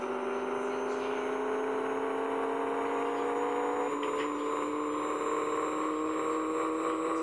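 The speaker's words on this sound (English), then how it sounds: "You hear the turbo?" In the video game Pixel Car Racer, a turbocharged car's engine holds a steady whirring whine with faint rising tones, quiet and continuous throughout.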